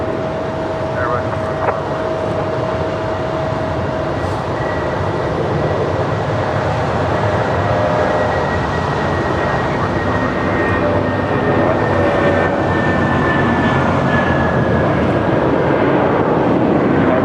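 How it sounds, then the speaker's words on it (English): United Boeing 757 bound for Las Vegas rolling down runway 25 right at LAX for takeoff, a steady loud engine roar with broadband rumble and a faint high whine, mixed with radio chatter and talk. "looks like we have that United 757 heading to Las Vegas. Now rolling down 25 right"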